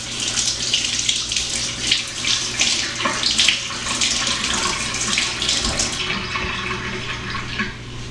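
Water from a kitchen tap runs steadily for several seconds, splashing over a spoon being rinsed in the sink, close and fairly loud, with small clinks and a brief stop near the end.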